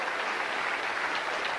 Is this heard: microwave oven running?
no